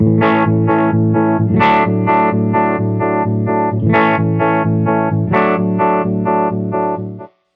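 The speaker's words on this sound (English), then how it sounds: "On the top, we have a square wave, very choppy." An electric guitar plays through a Jam Pedals Harmonious Monk set to square wave modulation, its loud sustained chords chopped into a steady, choppy pulsing throughout before cutting off at the end.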